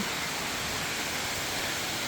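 Steady broadband rush of a flowing waterfall along a creek on a woodland hiking trail, a continuous hiss of falling water with no breaks, fairly close and even in level.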